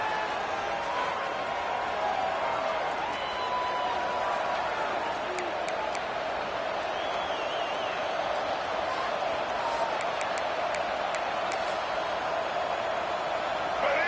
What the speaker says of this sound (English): The crowd electric trying to help Tech on this 3rd down.